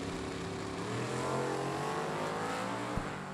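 A Camaro and a snowmobile launch side by side at a drag race, with a loud roaring engine rising in pitch as they accelerate hard, close and continuous.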